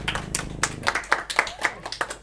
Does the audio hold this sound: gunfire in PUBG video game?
no